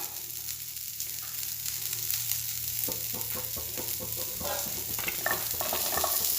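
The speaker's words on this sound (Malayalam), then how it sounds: "ഇനി നമുക്ക് ഈ ചക്കക്കുരു ഇതിലിടാം" Boiled jackfruit seeds stirred into drumstick leaves frying in a pan, with steady sizzling and repeated scraping stir strokes that grow busier as it goes, close by and with no talk.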